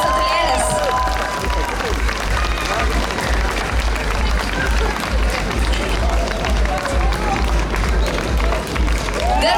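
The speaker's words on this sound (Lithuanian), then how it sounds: "Garsūs plojimai." Steady, sustained applause from a crowd at Laumės juosta, a public outdoor event in Palanga, holding at an even loud level throughout with a few faint voices and whistles over the clapping.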